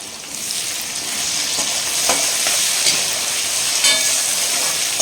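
Curry leaves with red and green chillies sauté on a high flame, giving a steady loud sizzle and crackle with occasional sharper pops and stirring scrapes throughout.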